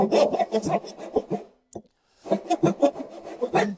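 A wide, very hard traditional Chinese chisel with a brass inset scrapes and notches into wood in a run of rough, rasping strokes, pausing briefly before another close burst.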